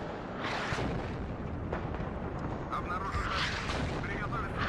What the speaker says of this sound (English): Rocket artillery does look really cool, but it's not very effective.